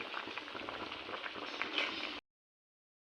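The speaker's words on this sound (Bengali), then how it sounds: "এই শস্য বাটা দিয়ে আর একটু ফুটাবো, ফুটিয়ে তারপর নামিয়ে নেব।" Mustard paste curry bubbling in a pot, a steady close crackling simmer for about two seconds before it cuts off.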